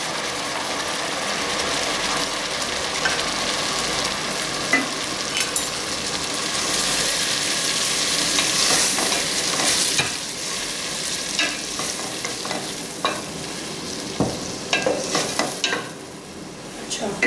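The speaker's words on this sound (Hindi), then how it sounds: "अब इस टाइम पे मैं ये डालूँगी टमाटर 2 कप।" Chopped tomatoes sizzle in a pan with browned onions while they are stirred for a tinday curry. The steady frying hiss runs throughout, with scraping spoon strokes and clinks growing sharper and more frequent toward the end.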